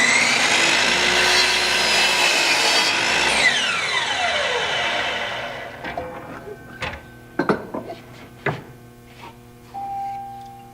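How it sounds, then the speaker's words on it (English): A power saw rips through a wooden top or bottom rail cut to length against a stop block, a loud whining cut for about five seconds that winds down, followed by a few sharp knocks and clatters of the wood being handled. "And now I can cut my top and bottom rail to length."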